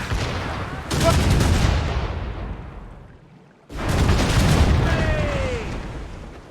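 Ship cannons fire broadsides in the naval combat of the video game Assassin's Creed Rogue. Two long, loud rolling volleys of booms each fade out slowly, and a brief whistle sounds during the second.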